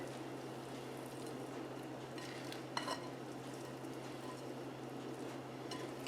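Oyster dressing being stirred together with turkey meat in a bowl in a home kitchen, a soft, steady wet mixing and scraping throughout with one brief clink near the middle.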